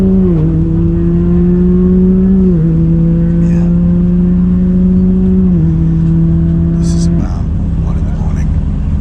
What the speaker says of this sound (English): This is the sound of engines all night